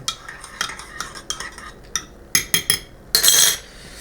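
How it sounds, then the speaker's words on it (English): A spoon stirs coffee with sweetener in a cup, a run of quick metallic clinks against the sides that speed up into a dense rattling burst at the end, close and clear with no talking. "Stir it up."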